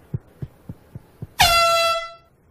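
In a cartoon, a horn gives one loud, brassy toot lasting about half a second, following five soft, evenly spaced thumps.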